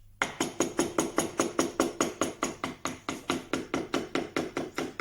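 Rhythmic mallet strikes drive a chisel into an oak bread board while letters are carved, about four sharp, even knocks per second, close and clear with no talk.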